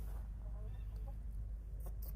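Hens cluck faintly near a hen house, a few soft clucks buried under a loud, constant low rumble of outdoor noise.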